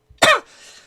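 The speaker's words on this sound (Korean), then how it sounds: "아직 제가 이제 코로나가 이제 완치가 되지 않았기에 가끔마다 이제 기침을 해가지고 조금 힘든 부분이 있지만" A single sharp, close cough from a person still recovering from COVID who also has asthma, followed by a brief breathy trailing rasp.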